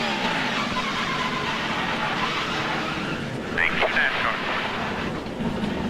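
NASCAR race car crash, steady roaring engine noise with a brief skidding screech midway, heard under a commentator's voice throughout.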